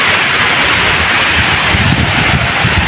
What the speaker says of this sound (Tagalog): Pakita na ko sa inyo ang falls, ha, sa kanindot.